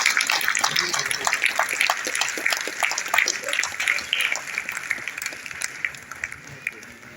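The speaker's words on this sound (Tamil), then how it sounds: "பலத்த கரவொலிகளை வழங்குங்கள் விருதாளர்களுக்கு." Award recipients at a construction industry ceremony receive sustained applause, a dense crackle of many hands clapping at close range that gradually thins toward the end, with a voice heard faintly in the crowd.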